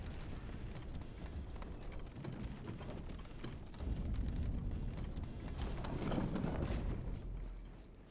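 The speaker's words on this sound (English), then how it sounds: "Now we summon horse," A summoned horse in the Elden Ring video game makes a quick rhythmic patter of hooves at a gallop over a steady mechanical rumble that swells partway through and then eases off.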